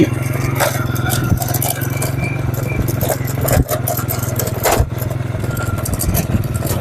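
A motorcycle engine idles steadily nearby, a constant rumbling drone with occasional scrapes and clatters.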